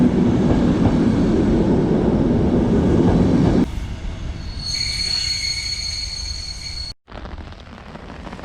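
A train pulls into Adinkerke station, loud and close, with heavy rolling rumble and clatter that drops away, then high sustained wheel squeals ringing over the quieter rail noise before a brief cut.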